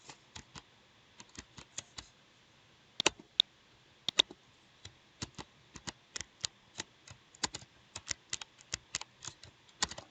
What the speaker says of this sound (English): The keystrokes are much quicker than using this pad here.